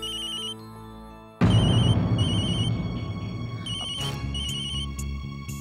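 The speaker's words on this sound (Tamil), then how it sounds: "ரமாதான் போன் பண்றாங்க" A telephone ringtone sounds over a dramatic background music score, with repeated electronic rings pulsing near and clear for several seconds.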